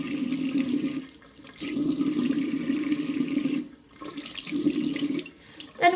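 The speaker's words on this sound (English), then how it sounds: "Start off by just wetting my face" A faucet runs into a sink while water is splashed onto the face, flowing in bursts interrupted by brief pauses and close splashing sounds.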